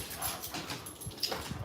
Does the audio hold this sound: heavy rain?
no